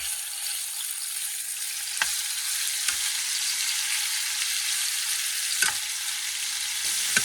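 Pork shoulder fries in a paella pan with a continuous bright sizzle, broken by a few sharp clicks of a utensil against the pan.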